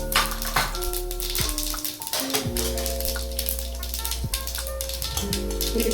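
Mustard and cumin seeds crackling and popping in hot oil for a lentil dish, with a dense, close patter of sizzling pops that runs continuously under a steady hum, no speech.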